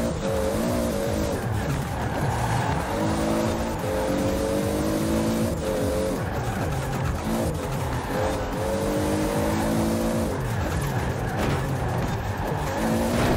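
A Toyota Supra in the Forza racing game revs hard through a skid, its engine droning in rising and falling waves under continuous tire squeal at close range.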